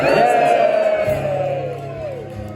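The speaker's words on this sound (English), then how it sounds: "You can all have a big cheer now" Concert crowd at a punk rock show at Scala in London, cheering and whooping loudly, a dense wall of shouts and cheers with a sustained low murmur underneath, dying down slightly toward the end.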